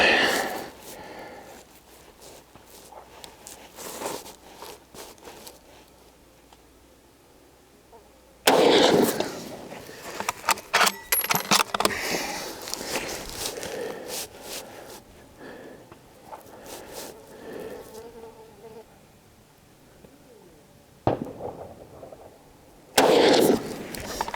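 Rifle shots from a CZ X39 firing Golden Tiger 124 grain ammunition at 75 yards outdoors, two sharp loud reports separated by about fifteen seconds, with quieter handling noise and faint background sounds between.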